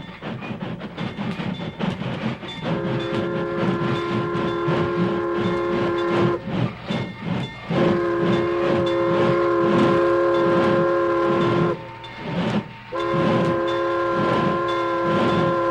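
A train approaches and slows to a stop, with a steady horn-like whistle sounding in long held blasts over rumbling wheels and rail noise, loud and close, staged as a radio drama effect.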